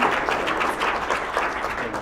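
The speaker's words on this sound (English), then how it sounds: "We have a round of applause for our team." Team members in a room give a short round of applause, steady mid-distance clapping from a small group with faint voices underneath.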